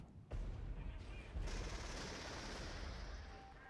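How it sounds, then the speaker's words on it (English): Artillery barrage in the real-time tactics game Regiments, with a sharp blast followed by a dense, rumbling fusillade of distant booms and crackling fire that rolls on steadily, with a brief voice underneath. "Drop more artillery."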